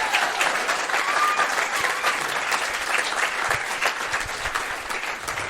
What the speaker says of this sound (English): Yeah, give yourself a round of Fantastic applause.